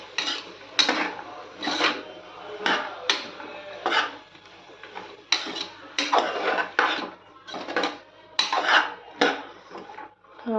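Beans stirred into a cooking pot while making pulao: rhythmic scraping strokes of a spoon against the pot, about a dozen loud, close passes with short pauses between them, and no talking.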